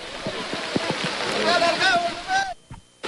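Strong current of a river overflowing onto a street in Roxas District during heavy rain, a steady broadband rush of floodwater running throughout while people talk over it, dropping away sharply near the end.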